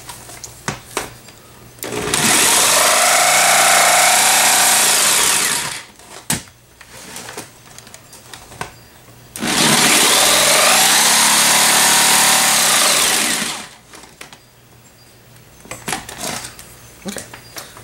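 A jigsaw cuts a hole in an aquaponic grow tower in two loud, close, buzzing bursts of about four seconds each, separated by quieter handling knocks and brief speech-like sounds.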